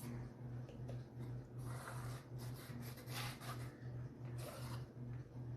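Acrylic paint is scraped off the sides of a canvas in a steady series of repeated rubbing strokes, close and fairly quiet, with a low hum underneath.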